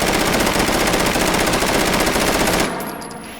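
A Russian firearm in the VR game Hot Dogs, Horseshoes and Hand Grenades fires a loud, rapid sustained burst of closely spaced shots, then cuts off abruptly into a short decaying echo.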